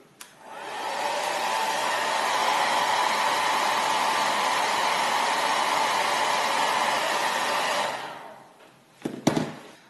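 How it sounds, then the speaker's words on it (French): A hair dryer blows steadily at close range for about eight seconds, heating and softening varnish on a fishing rod blank, then switches off, leaving a few faint clicks and handling sounds. "je vais simplement venir chauffer le vernis en tournant mon blanc comme ça avec un sèche-cheveux"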